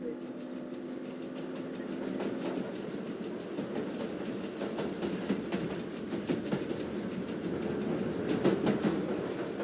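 Train in the Roblox game Jailbreak, a steady rumbling roll with faint clickety-clack beats running continuously at moderate level, with game ambience around it.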